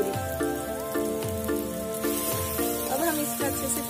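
Masala frying in oil in a clay pot for village-style desi chicken, a steady close sizzle with soft crackling under background music, with light stirring scrapes.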